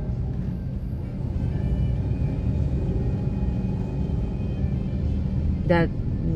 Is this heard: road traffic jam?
yes